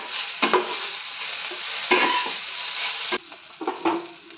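A spoon stirs Maggi noodles with masala seasoning in a hot pan, with a soft sizzle throughout and a few distinct scraping strokes against the pan, close and moderately loud with no talking.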